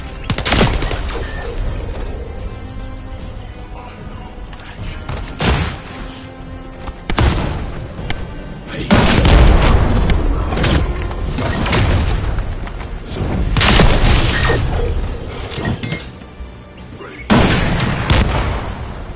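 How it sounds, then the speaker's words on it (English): Heavy explosions and gunfire in the video game The First Descendant, with a precision bomb among several loud booming blasts spaced a few seconds apart under rattling shots, and a voice speaking between them. "This precision bomb."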